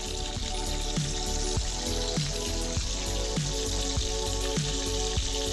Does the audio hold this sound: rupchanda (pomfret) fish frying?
yes